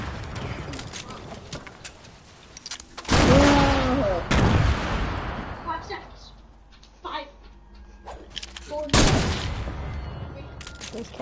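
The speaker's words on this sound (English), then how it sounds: "I'm gonna throw these grenades at it." Grenades explode in Fortnite in two loud, sharp bursts several seconds apart, each decaying quickly, with players chattering around them.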